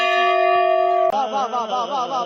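A large temple bell at the Brahmeshwar Yoga temple in Kayavarohan, near Vadodara, rings close and loud with a sustained metallic hum. It is struck again midway, and the fresh clang swells into a wavering, pulsing resonance with no talk over it.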